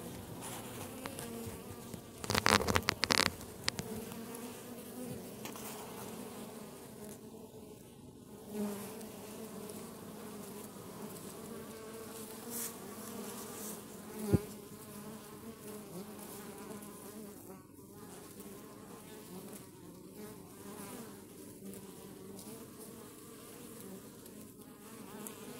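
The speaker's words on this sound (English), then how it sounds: "So the bees are trying to get all they can for the day." Honey bees buzzing around their hive as they bring in pollen on a winter day, a dense steady hum of many insects with a few louder buzzes passing close.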